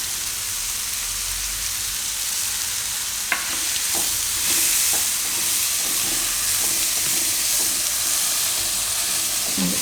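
Tomatoes and coriander sizzle in a pan for dudhi dal pulao, a steady hissing fry broken by a few soft stirring knocks and clinks.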